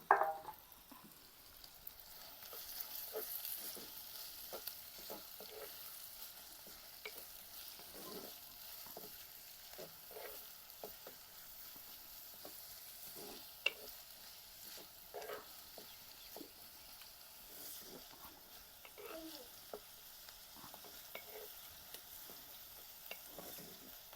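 Chopped onion frying and being stirred in a pan for a village-style Maharashtrian banana flower bhaji, giving a steady soft sizzle with scattered stirring scrapes and clicks throughout, no voices.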